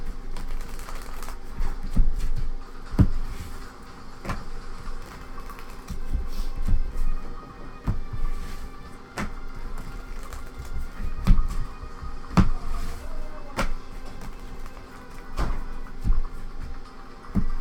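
Playing cards shuffled by hand before a medieval fantasy card game, a rustling, riffling texture with repeated sharp flicks and taps running steadily throughout at close range, no talking.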